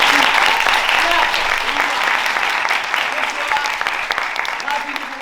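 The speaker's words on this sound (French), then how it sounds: "Vous pouvez déjà vous auto-applaudir d'être là." An audience at an improv comedy show applauds steadily throughout, a dense, loud patter of clapping that holds at an even level and eases only slightly toward the end.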